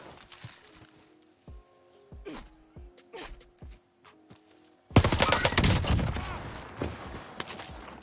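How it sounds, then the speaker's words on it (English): Type 11 gun firing in Warzone: a burst of close, dense gunfire breaks out abruptly and rattles on loudly, following scattered thumps and clicks in a quieter stretch. "I'm so turned, I shot a rock."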